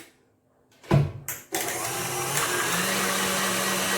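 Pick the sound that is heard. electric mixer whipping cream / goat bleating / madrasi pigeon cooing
electric mixer whipping cream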